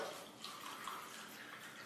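Tap water pours in a soft, steady stream for under two seconds, a quiet continuous splashing with no voices.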